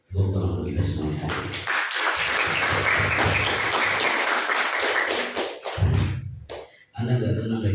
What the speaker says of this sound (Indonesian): Tepuk tangan kita semuanya